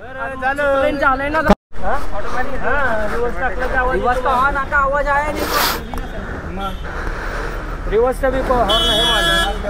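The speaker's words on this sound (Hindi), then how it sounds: "रिवर्स हॉर्न भी बज रहा है ना" A vehicle's reverse horn beeps during a roadside road-rage argument after a bike was hit, nearly buried under loud, continuous shouting from several people.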